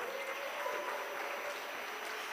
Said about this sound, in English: A continued round of applause for Honorable Minister.